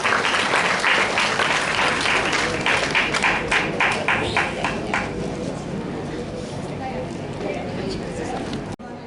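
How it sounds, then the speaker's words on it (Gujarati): Applause at a senior citizens club in Salabatpura, Surat: loud, sustained crowd clapping with dense rhythmic claps that thin out gradually over several seconds, heard up close and dominating the scene. "તાળીઓથી વધારી"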